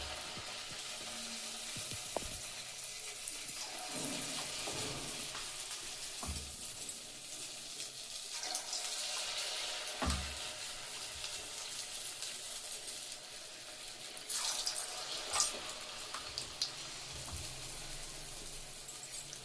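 Spoonfuls of punugulu batter drop into hot oil and set off a soft, steady sizzle, with brief louder bursts of frying as each batter ball hits the oil.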